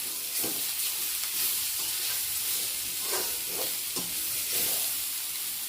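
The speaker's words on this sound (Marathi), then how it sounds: "2 ते 3 मिनिट फ्राय करून घ्यायचं आहे." Vegetables for Hakka noodles stir-fry in a hot pan, a steady sizzle and hiss with occasional scraping stirs and clinks throughout, fairly close and with no talk.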